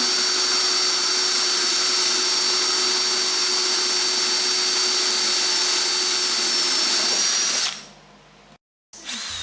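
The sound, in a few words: 1-inch hole saw cutting a hole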